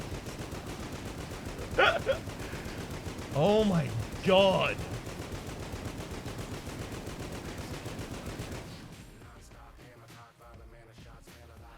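Continuous rapid gunfire and explosions from Enter the Gungeon rattle on, with a man exclaiming briefly over the din before it thins out.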